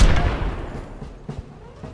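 Heavy tank cannon fire against pikemen in Civilization IV: a loud booming blast at the start decaying away, followed by several lighter thuds and impacts.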